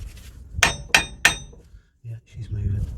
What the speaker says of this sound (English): I'm going to tap it with a hammer now and see what happens